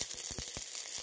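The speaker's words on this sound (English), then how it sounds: "So you sizzle up your curry paste." Panang curry paste sizzling in a pan, a faint steady hiss with a few soft stirring or scraping taps, heard alone without voices.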